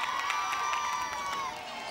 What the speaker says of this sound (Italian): Un applauso anche a Don Tobia.